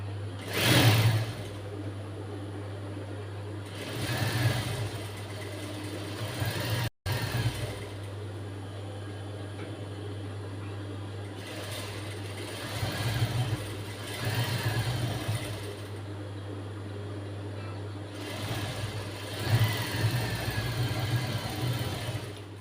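Domestic sewing machine stitching a blouse sleeve with lining along a drawn chalk line, a steady mechanical whir in several bursts of a few seconds each, a constant low hum running underneath between bursts.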